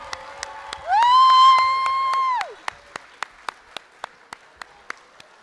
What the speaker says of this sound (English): Let's give another round of applause for these little legends here.